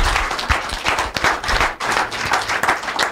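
Standing audience applauding a woman at a gathering honoring her: dense, continuous hand clapping with sharp individual claps near the front, steady throughout without pause.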